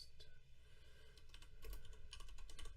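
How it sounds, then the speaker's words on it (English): Text being typed on a computer keyboard, with quiet, irregular clusters of key clicks that run alone at low volume and pick up in pace toward the end. "You type your text in the box."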